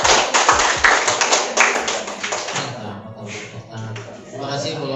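An audience at a school teacher-training session claps hands in a brisk burst of close, sharp claps that thins out after a few seconds, followed by a voice speaking.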